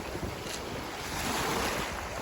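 Sea waves wash over a pebble beach while steady wind buffets the microphone, a continuous near roar of surf and gusts with no voices.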